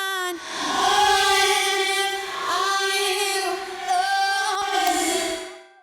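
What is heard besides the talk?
vocal with reverse reverb effect, compressed and distorted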